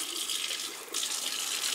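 Running tap water rinsing soap from a person's head, a steady close hiss of flowing water with a short dip midway, alone with no talk.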